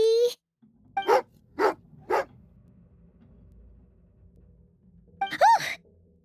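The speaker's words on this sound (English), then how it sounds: "angry doggy" An in-game dog in Genshin Impact lets out a few short growling, huffing vocal bursts, then a sharper whine-like growl near the end, with quiet stretches between them.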